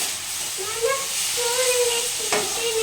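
Food frying in oil in a pan at home, a continuous close sizzle with brief stirring and faint tonal sounds, plus a sharp click near the end.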